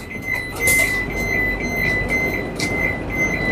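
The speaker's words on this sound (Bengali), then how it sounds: "দরওয়াজে বাই তরফ খুলতে হ্যায়," Sliding door on a Vande Bharat Express train running from Howrah to NJP, a steady mechanical whir with a high tonal hum and brief hissing bursts inside the coach, continuous over low rumbling train noise.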